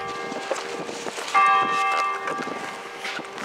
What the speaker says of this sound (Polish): Bije dzwon.